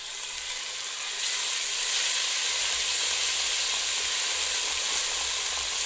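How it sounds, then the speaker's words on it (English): Fresh ginger and garlic sizzle in oil in a pan while cooking a red cabbage curry, a steady, close hiss that grows slightly louder after the first second and carries on evenly with no talking. "I'm going to go ahead and add about a teaspoon of fresh ginger and garlic."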